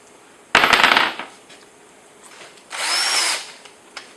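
A power drill with a bit bores pilot holes for the screws of ball-bearing drawer runners, two loud bursts of whirring, the first about half a second long, then a softer pause and a second steady run.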